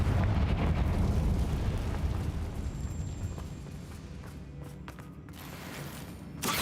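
A fiery blast from the Confringo spell in Hogwarts Legacy, a loud rumbling explosion that rolls and fades over several seconds before a sharp burst at the end.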